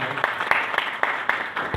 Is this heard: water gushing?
no